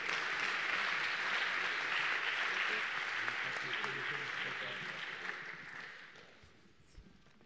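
An audience at an award ceremony applauds a prize winner with dense, sustained clapping that holds steady for several seconds, then thins out and fades toward the end.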